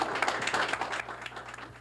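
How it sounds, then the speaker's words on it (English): Audience applause at a wild game cook-off, a dense patter of many hands clapping at close range, steady through the whole moment with a little speech mixed in. "How about a round of applause for us?"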